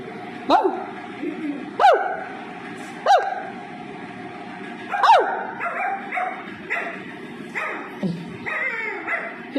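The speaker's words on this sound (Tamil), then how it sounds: "எங்கேயோ 2 நாய் கிடக்கு போலேன்னு நினைக்கிது" Several dogs barking repeatedly at a moderate distance, sharp woofs spaced a second or so apart, with a few yips and whimpers mixed in.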